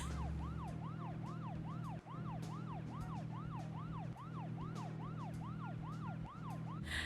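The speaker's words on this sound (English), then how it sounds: "I figured out the siren is shift." Looping wail of an emergency vehicle siren in a video game, a steady rising-and-falling electronic tone repeating quickly over a constant engine drone, with faint clicks where the audio loops.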